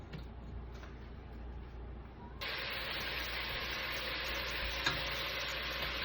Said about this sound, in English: start off with 6 pieces of bacon, put it on middle heat, let's get it going